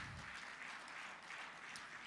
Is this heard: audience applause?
yes